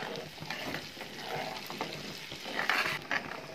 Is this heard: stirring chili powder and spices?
yes